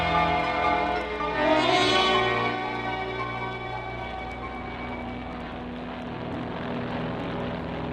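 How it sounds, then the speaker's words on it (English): Propeller airplane engine drone for a 1949 radio drama about chartering a plane, a steady loud rumble with layered harmonic hum that swells briefly then holds evenly throughout, no voices. "We'll charter a plane and fly."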